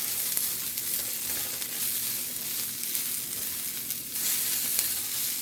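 Onions sizzling and browning in a pan over turned-up heat, a steady close frying hiss that runs on unbroken with no talking.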